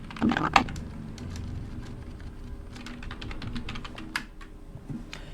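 Someone types a word on a computer keyboard in Excel: quick, light key clicks in irregular small runs, quiet and close, with a couple of louder knocks near the start.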